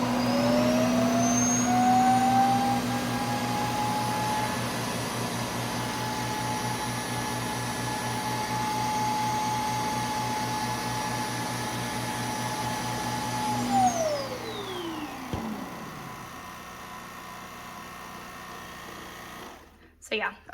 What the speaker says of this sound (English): that is where it's going to self-empty into the canister here